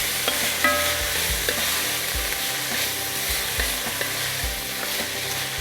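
Vegetables sauté in a pot as Creole seasoning is stirred in, giving a loud, continuous sizzle. Repeated scraping strokes of the spoon sound against the pan.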